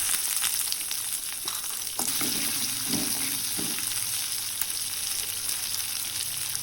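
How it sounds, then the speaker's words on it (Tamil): Mustard seeds, fenugreek, cumin and shallots fry in a pan with a constant dense sizzle and occasional stirring, loud and close with no talking. "அதில் கொஞ்சமாக கடுகு வெந்தயம் சீரகம் இதெல்லாம் சேர்த்துட்டு நல்லா பொரிஞ்சதும்"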